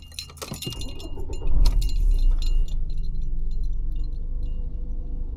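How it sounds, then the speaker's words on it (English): A bunch of car keys jangles loudly up close, with sharp metallic clinks, followed by a low rumble of a 1999 Volkswagen Golf engine idling. "He has really loud keys."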